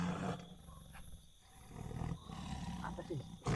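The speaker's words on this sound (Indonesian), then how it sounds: "Tapi ada auman harimau Ton." A tiger roars at a distance, heavy low bursts rising over ambient noise, with people speaking around it.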